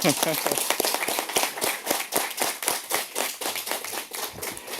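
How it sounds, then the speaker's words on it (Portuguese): Applause from an audience of bank workers at a debate, a burst of clapping with distinct individual claps at first that settles into a fairly steady rhythm, moderately close and fading slightly toward the end. "eu queria que nós dessemos uma salva de palmas para nós, bancários"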